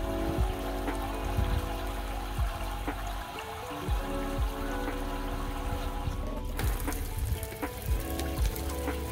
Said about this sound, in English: The water is flowing up the vinyl hose and through this custom spillway that I made.